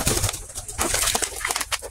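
Domestic pigeons in a home loft coo and rustle close by, with soft overlapping calls and some wing movement across two busy seconds and no talking.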